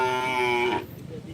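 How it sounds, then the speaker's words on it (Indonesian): Big bulls at a karapan sapi bull race in Pamekasan, Madura, let out a loud, close, sustained moo that cuts off partway through, with crowd noise underneath. "Ini sapi-sapi besar guys."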